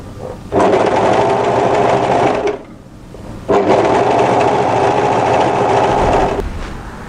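A sewing machine stitches a dress sleeve into place in two loud, steady runs of rapid mechanical whirring, separated by a brief pause near the middle.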